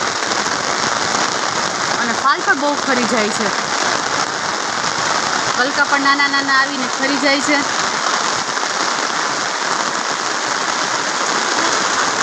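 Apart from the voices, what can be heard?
heavy rain falling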